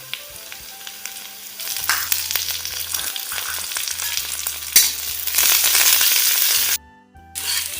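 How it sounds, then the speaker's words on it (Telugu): Onions fry in a pan with green chilies, coriander and mint, a loud continuous sizzle broken by clinks and scraping stirs, briefly dropping away near the end before resuming. "ఉల్లిపాయలు వేగిన తర్వాత 4-5 పచ్చిమిరపకాయలు వేసుకోవాలి. తర్వాత కొత్తిమీర, పుదీనా కూడా వేసుకోవాలి."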